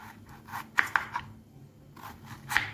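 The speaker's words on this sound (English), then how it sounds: "I actually cut this into 3 slices" A knife slicing through stew beef on a cutting board, several short soft cuts and taps spaced irregularly at close range, quiet with faint background noise.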